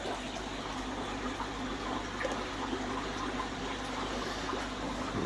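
Water drains out of a container of soaked koi food, producing a steady, close gurgling and sloshing rush with small irregular bursts and a faint low hum beneath, with no talking.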